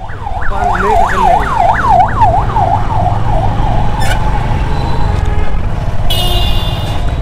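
An ambulance siren wails in quick repeating sweeps, then settles into a steadier tone over a loud rumble of road traffic.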